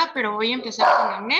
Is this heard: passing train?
no